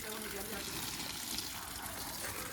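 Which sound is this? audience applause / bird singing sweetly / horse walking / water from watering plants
water from watering plants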